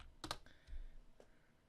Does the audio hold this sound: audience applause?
no